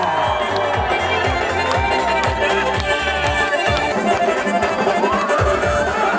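A loud crowd cheers and applauds at a live lezginka dance show by a troupe, a steady roar of voices carried over rhythmic low thumping beats throughout.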